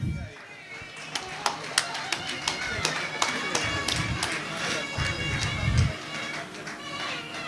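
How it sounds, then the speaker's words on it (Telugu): A few people clap in a steady, fairly quick rhythm at a school reunion of the 1998 batch, sharp claps continuing for several seconds over a low murmur of voices. "చప్పట్లు"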